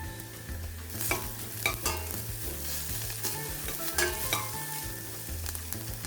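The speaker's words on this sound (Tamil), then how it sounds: "வெங்காயம் கொஞ்சம் வதங்கட்டும் கொஞ்சமாக கருவேப்பிலை சேர்த்துக்கொள்கிறேன்" Onion and curry leaves sauté in a pan for Sri Lankan breadfruit curry, a close, constant sizzle punctuated by regular spoon scrapes and stirring clicks over a low background hum.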